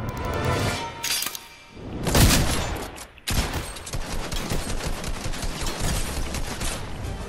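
Gunfire and shattering impacts in a video game sniper fight, loud and dense with bursts and breaking sounds throughout, a brief lull midway before the shooting resumes.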